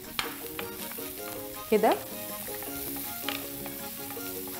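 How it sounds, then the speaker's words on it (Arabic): A cinnamon stick, cardamom and bay leaves sizzle softly in oil in a pan for a biryani and are stirred. There is a gentle frying crackle with a brief scraping stir, and someone says a word over it. "عندي عود قرفة وعندي حبهان وعندي ورق غار، هحطهم كده وهبتدي بقى اشوح كل الخليط ده"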